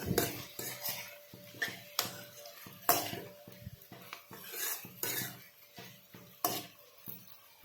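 Mutton fresh from the fridge being stirred in a pan over a high gas flame, a steady series of metallic scrapes and clanks from the utensil against the pan, close and moderately loud, with a faint sizzle underneath.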